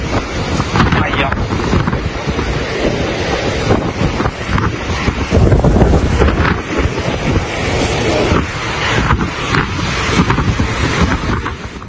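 Hurricane-force wind from Cyclone Harry roars across the Italian coast, loud gusts buffeting the microphone over crashing waves and surf in a constant, turbulent rumble, with voices faintly under the noise.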